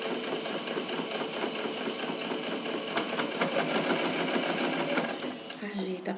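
Sewing machine stitching along the edge of a fabric pencil case with a voile window, a loud continuous motor hum and needle chatter that eases near the end.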